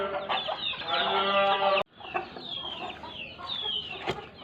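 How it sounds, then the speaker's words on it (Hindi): Hens in an enclosed pen cluck and chatter continuously at moderate distance. A sharp break partway through is followed by more scattered clucks and calls. "कुछ मुर्गियां उधर बंद हैं"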